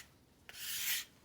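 Square scraper taking a single short shaving stroke across a large wooden spoon, a brief dry rasping scrape after a faint tap, close and quiet.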